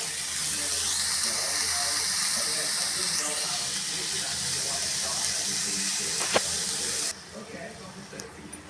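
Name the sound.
water being poured into pan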